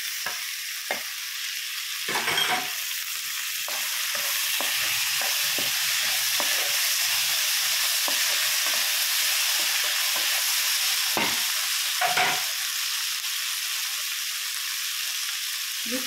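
Tomatoes fry with ginger-garlic paste in a pan for paneer curry, giving a constant loud sizzle and hiss with a few scraping stirs of a spoon near the start and again later, close and without talk.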